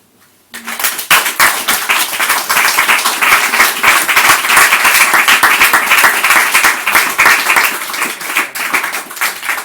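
A university MFA reading audience gives a sustained round of applause, dense and loud from start to finish after a brief quiet opening.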